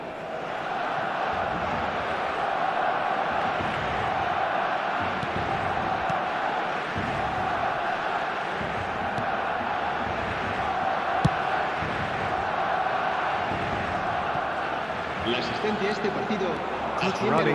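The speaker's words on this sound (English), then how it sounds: "at least the crowd are appreciative of his efforts" Stadium crowd noise from the eFootball 2025 football video game on PS5 swells as a steady roar beneath match commentary, rising slightly toward the end.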